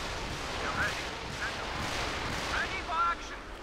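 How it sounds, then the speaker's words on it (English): Company of Heroes 2 artillery barrage rumbles as a dense, continuous roar of distant booms and blasts, with whistling shells and battle noise layered throughout. "Another barrage unleashed."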